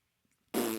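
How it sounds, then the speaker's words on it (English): A fart noise sound effect: one loud, buzzy, sustained blast lasting under half a second, arriving abruptly after near silence. "Fart noise."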